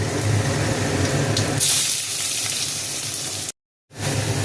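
Onions hit hot oil already frying cumin, bay leaf and whole garam masala for a Bengali chicken dish, giving a loud hissing sizzle that settles into a steadier fry, with a brief gap of silence near the end.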